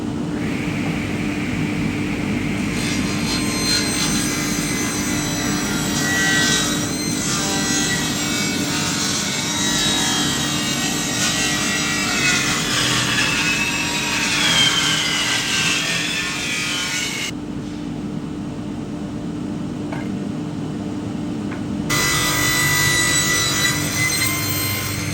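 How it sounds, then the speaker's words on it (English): A power tool machines timber for a wooden mallet, a steady loud cutting and rubbing drone with a constant low hum, briefly dropping near the end before resuming, no talk. "I think it's time to start machining some timber"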